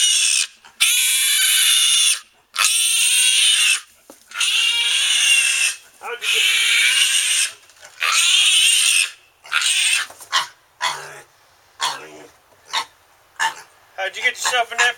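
A pig grunts and squeals in a long run of loud, close, rough bursts. The calls grow shorter and choppier toward the end.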